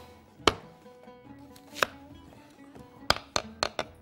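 An onion is chopped on a board with sharp, close knife strikes: single chops spaced well apart at first, then a quicker run of four or five near the end, with no talk.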